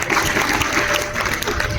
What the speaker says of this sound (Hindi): जोड़ा तालियां बजाइए